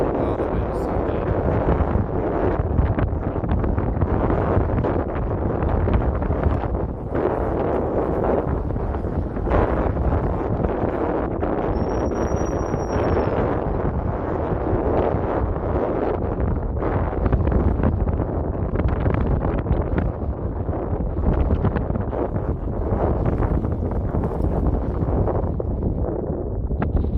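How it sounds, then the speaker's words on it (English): Strong outdoor wind buffets the microphone in a steady, loud roar across the whole stretch, with gusty rustling surges and no clear pauses, on a windy day where a model aircraft is being flown. "Oh, the wind is so good."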